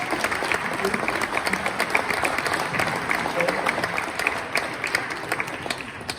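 Audience applauding an orchestra at a December Christmas concert: sustained, dense clapping from a crowd, steady and fairly loud, with faint voices mixed in underneath.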